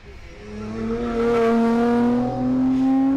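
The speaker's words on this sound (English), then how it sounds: "Volkswagen Bora heading through in a bit of a hurry." A Volkswagen Bora accelerates hard up the Collingrove hill climb, its engine note rising and holding near the limiter, loud and close with a brief dip before it climbs again.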